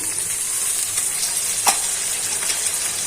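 Chopped carrot, green chilli and capsicum stir-frying for mixed fried rice, a bright, close, steady sizzle with a single sharper toss or scrape midway and no voices.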